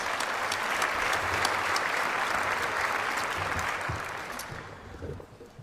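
A large audience of over 1,100 people at a city State of the City address breaks into sustained applause, a dense, loud wash of clapping that holds steady before thinning out toward the end.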